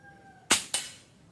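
Two sharp suppressed shots from a Neo GNT air rifle fitted with a silencer, a quarter second apart, each a short broadband crack that fades quickly, with a faint steady tone before them.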